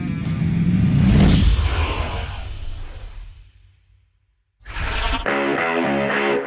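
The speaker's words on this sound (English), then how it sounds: "This version has the 4-cylinder engine with a turbocharger." Ford Mustang with a 2.3-liter turbocharged four-cylinder engine loudly revs and pulls away, then the sound briefly cuts to silence, followed by a new burst of steady engine noise.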